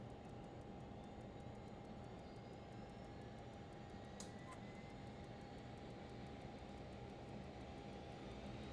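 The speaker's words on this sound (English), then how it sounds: "Other engine coming on." A Lear 35 jet engine runs in a flight simulator game as a steady, faint whining drone with no change in level throughout.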